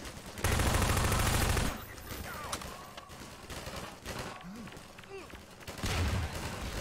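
Bursts of weapon fire from the video game Half-Life 2, with a dense, loud volley at the start and another near the end, and quieter game sounds between them.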